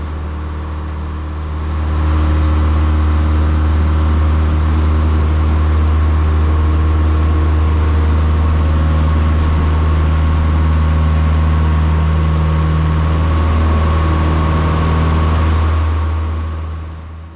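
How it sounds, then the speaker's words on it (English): Aircraft engines at takeoff power during the takeoff roll, a loud steady low drone with strong tonal hum that swells after the first two seconds and holds evenly, with no talk. "Takeoff power set, engine gauge is green,"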